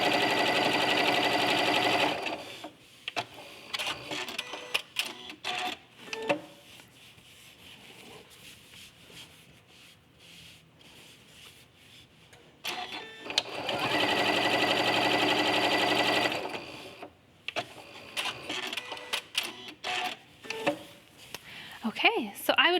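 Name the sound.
sewing machine stitching quilt-as-you-go fabric scraps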